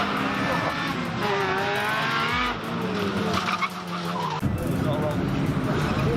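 A Chevrolet Aveo rally car on a live stage at a RaceRetro event skids with loud tire squeal and gravelly scrabbling while its engine revs and shifts pitch, with voices faintly underneath.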